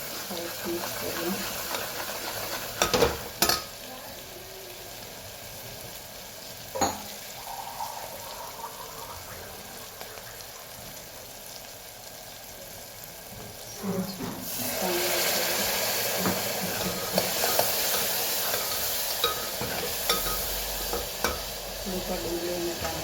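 Spoon stirring turmeric, coriander-cumin powder and chili into onions and tomatoes frying in a pan, a steady sizzle with scraping strokes and a few sharp clinks, the frying growing louder partway through.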